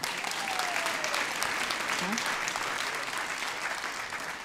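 Studio audience applause on a radio show, a dense steady wash of clapping that carries on for several seconds and slowly fades, with a faint voice underneath.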